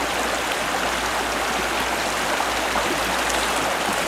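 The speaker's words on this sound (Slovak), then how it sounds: "Krásny potok." Clear water of the Neresnica creek in Zvolen flows in a steady, full-bodied rush, close and continuous with no voices over it.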